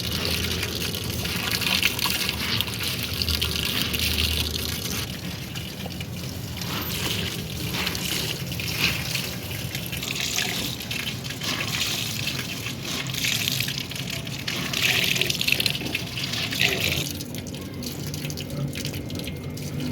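Tap water runs and splashes steadily as a dupatta is washed by hand, close and fairly loud, with gushing and dripping that shifts in intensity throughout.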